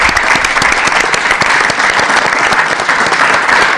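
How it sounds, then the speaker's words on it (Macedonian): A studio audience claps steadily and loudly throughout, a dense continuous applause with no talking over it, during a televised school program at a vocational high school in Veles. "Ајде да аплауз за нив."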